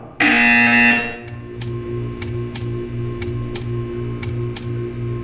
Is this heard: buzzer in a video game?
yes